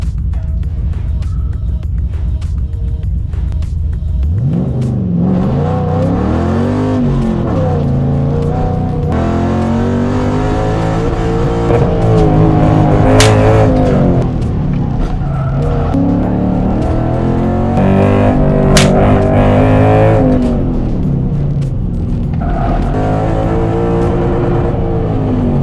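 An autocross race car accelerates hard around a cone course at a regional SCCA event, its engine loud and close, revving up and down through repeated sweeping pitch changes with occasional tire noise.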